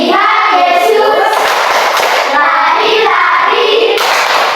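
Children in a classroom clap a patterned rhythm of short and longer beats, close and fairly loud, while singing along in chorus.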